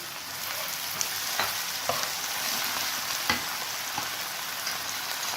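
Half a tomato sizzles in a hot pan, a steady close frying hiss broken by light clicks of stirring. No one talks.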